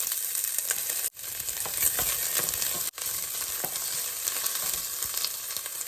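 Onions sautéing in olive oil in a pan, a steady bright sizzle with occasional stirring scrapes and two brief near-silent breaks, close and alone without talk.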